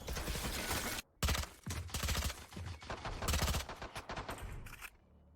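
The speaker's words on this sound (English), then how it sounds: "A lot of pop shots going off." Rapid bursts of gunfire in the tactical shooter Valorant during a competitive match on the map Split, dense overlapping shots with brief pauses, loud and close.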